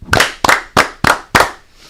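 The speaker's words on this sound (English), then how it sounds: "He's actually gonna get 5 claps because he went 5 for 5" A group claps five times in unison for an All-American college football player, the sharp, loud claps evenly spaced in a steady rhythm, with no voices.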